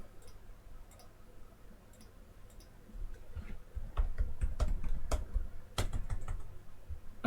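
A computer keyboard is typed on with sparse clicks at first, then a brisker run of close, crisp keystrokes with a few sharper taps.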